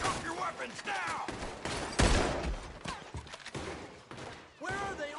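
Shootout in Red Dead Redemption 2, with rapid bursts of gunfire and sharp shots crackling across the scene, one heavy blast standing out, under frantic shouting voices throughout.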